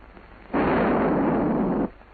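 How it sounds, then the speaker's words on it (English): Hand grenade detonating at an outdoor training target, a single loud sustained blast roaring for over a second before cutting off, with no talk. "The instructor pulls the pin. The grenade is now hot. After he's let go of the safety arm, it'll detonate in 5 seconds."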